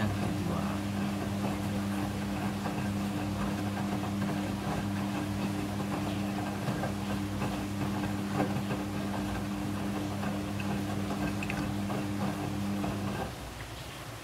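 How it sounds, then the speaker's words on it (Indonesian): A Midea front-loading washing machine runs its second rinse with a steady low motor hum and sloshing water, continuous and close, easing off slightly near the end. "Setelah proses pemerasan selesai, masuk ke proses pembilasan air yang kedua."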